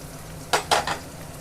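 Pumpkin pieces tipped into a pan of fried onions, giving two or three short, bright bursts of sizzling and stirring against a quiet kitchen background.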